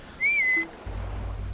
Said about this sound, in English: you can whistle for the drone to help you in a certain area